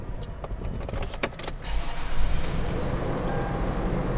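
Keys jangle inside a 2016 Toyota 4Runner SR5 SUV, then the engine cranks and catches at close range, settling into a steady low idle with no talking.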